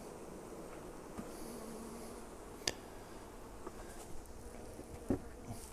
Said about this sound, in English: It's full of bees.